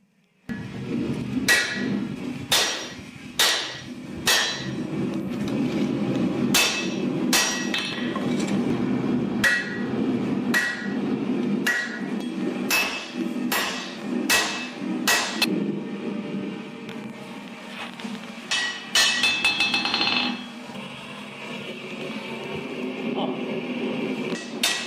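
Nine metal hammers strike steel forging a San-Mai Damascus kukri blade in a steady series of sharp ringing clangs, repeated blow after blow, with a brief scraping pause before hammering resumes.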